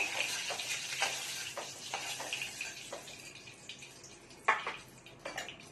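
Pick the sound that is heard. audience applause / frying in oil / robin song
frying in oil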